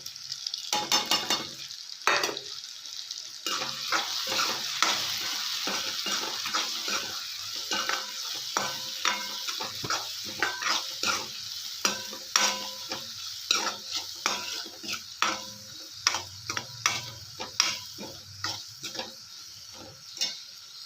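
Potato and peas curry being stirred and fried in a pan with coriander powder, garam masala, red chilli powder and turmeric: a steady sizzle under repeated scraping strokes of a spoon, close and moderately loud, with no talking.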